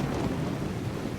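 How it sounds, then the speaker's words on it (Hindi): Heavy rain pours at night in a film scene while thunder rolls in a low, continuous rumble under a dense, steady wash of rainfall. "कपड़े गीले हो गए हैं और बारिश भी बहुत है"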